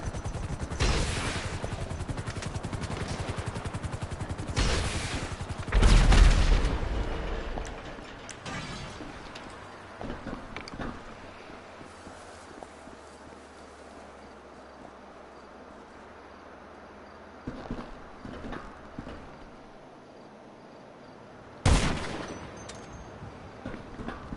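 Gunfire in GTA Online aimed at an enemy from a rooftop, with a few loud sharp bursts separated by long quieter stretches and one more crack near the end.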